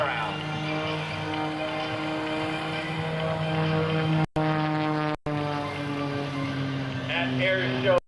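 Sean Tucker's aerobatic airplane drones through two consecutive hammerhead turnarounds at an airshow, a steady propeller engine tone with shifting pitch, heard at a distance beneath a narrator's voice, with brief dropouts.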